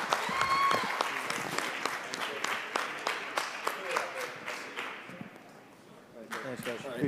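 Bar crowd claps for a coach in loose, uneven applause with distinct individual claps, thinning out and then picking up again near the end, with voices talking over it.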